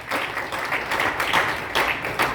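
An audience claps steadily at a literature festival in New Delhi: a dense, sustained wash of applause from a crowded hall, loud and close, with no speech over it.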